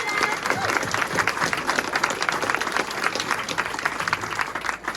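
An audience applauds for speedway rider Dan Bewley at a Belle Vue versus Ipswich press conference, a dense burst of clapping that holds steady for several seconds.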